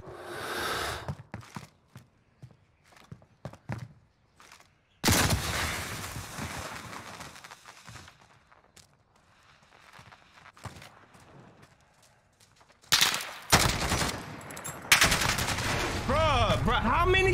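Gunfire in a 1v1 shooter video game: bursts of sharp shots in loud clusters separated by quieter gaps, with a voice talking over parts of it.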